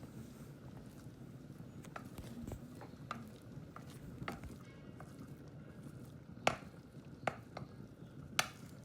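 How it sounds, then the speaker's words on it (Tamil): Rice for chicken fried rice being stirred in a pan, with soft scraping and rustling throughout and a few sharp clacks of a utensil against the pan near the end, quiet and close. "கிண்டி விடுவோம்."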